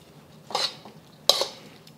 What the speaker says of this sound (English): Adding our shrimp back in and our egg.